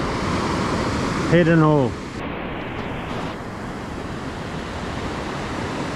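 On a fishing beach, ocean waves break on a sandbar and wash back over deeper water, making a continuous broadband hiss of surf. Someone briefly speaks over it early on.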